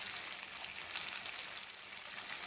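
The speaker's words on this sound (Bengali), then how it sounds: "দিয়ে ভালো করে মশলাটা এইভাবে কষাতে হবে।" Ground spices with turmeric and cumin sizzle steadily in hot oil in a pan, a dense continuous hiss with no gaps, moderately loud and close, with no talking.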